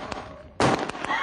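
A battle reenactment on the Stalin Line, staging a German assault against Soviet defenders, with sharp gunshot cracks: a heavy close burst followed by several quicker reports, loud and abrupt against a quieter background.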